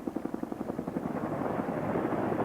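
An AH-1W Whiskey Cobra attack helicopter flies at a 1992 Marine Corps capabilities exercise at Camp Lejeune, North Carolina, its rotor thumping in a steady rhythm that blurs into a continuous roar as it draws nearer.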